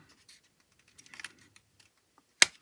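A plastic dashboard part from a 1/24 BMW M8 GTE 2019 model kit snaps into place with one sharp, close click near the end, after a few faint scratchy handling sounds in near silence.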